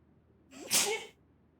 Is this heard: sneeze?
yes